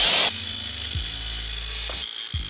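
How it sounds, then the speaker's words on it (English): A grinder fitted with a mesh tile-cutting blade bites into bolts during a Rheem-style condenser fan motor replacement, giving a loud high whine whose motor pitch sags and recovers under load, heard alone. "We're going to attempt to cut them with a mesh blade made for tile, but it feels pretty rough."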